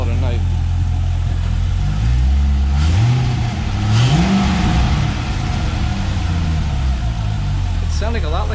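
An LS V8 swapped into a Jaguar XJ-S revs once through its exhaust, a loud, close, deep engine note that climbs and falls before settling back to a steady idle, with a voice talking over it.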